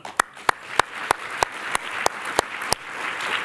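Sharp, evenly spaced claps ring out roughly every third of a second, about ten in a row, over a rising room murmur at Landspítali's 2022 annual meeting honouring hospital staff.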